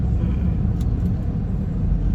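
Car engine and road rumble from inside a moving car, a steady loud low drone throughout with no talking.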